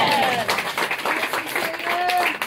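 Church congregation applauding during a French-language Friday service, a moderate wash of clapping mixed with voices and sung tones, close and steady.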